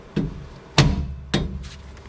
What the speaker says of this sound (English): Give that strut a good whack and it should pop right off.